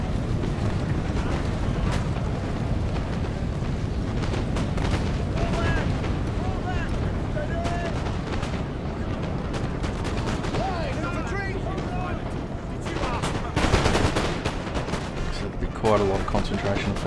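Massed musket volleys crackle and boom across a battle video game, concentrated fire on one unit rolling in dense overlapping bursts over a continuous rumble, with someone talking over the din.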